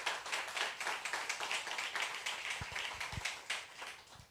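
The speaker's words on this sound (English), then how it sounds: "give a round of applause to our festival heroes and our sponsors" A small crowd at a music festival press conference claps in a quick, continuous patter, with a few louder thumps near the end.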